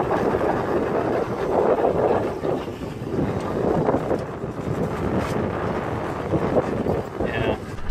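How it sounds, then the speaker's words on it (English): Strong wind buffets a fishing boat offshore near Key Largo, a steady loud roar of wind noise and water across the whole stretch with no talking. "Yeah. It's getting really windy."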